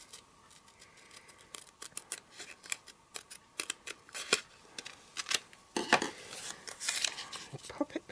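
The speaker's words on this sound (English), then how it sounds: "Then I'm going to just cut inside the line." Scissors snip through a post-it note, cutting just inside a drawn line in a papercraft project. Close, crisp clicks come in irregular bursts, quiet at first and growing louder and denser toward the end.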